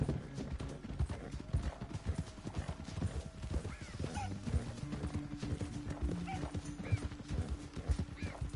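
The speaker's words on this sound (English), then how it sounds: "Get back on your horse, John" Horse hooves clip-clop steadily throughout in the Red Dead Redemption 2 video game, with a horse whinnying briefly near the middle, against a busy outdoor game soundscape.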